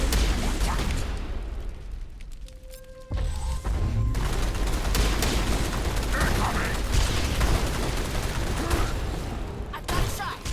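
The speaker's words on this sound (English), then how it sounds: "Ashley, what are you shooting at?" Ashley firing her weapon in Mass Effect Legendary Edition, with dense continuous gunfire and mechanical clatter across the whole stretch and a brief lull partway through, loud and busy, with no voices.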